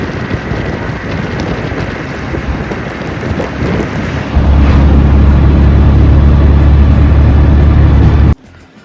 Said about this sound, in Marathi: शेअरिंग ऑटोनी जवळजवळ एक 5 ते 7 मिनटाचा प्रवास असेल